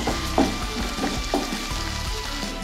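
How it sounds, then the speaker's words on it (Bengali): Onions and capsicum frying in a pan for brown stew chicken, a steady close sizzle broken by a few brief stirring scrapes, with no voices. "এরপর আমরা এর মধ্যে দেব ক্যাপসিকাম দিয়ে এগুলিকেও আমরা ভালো করে ফ্রাই করে নেব।"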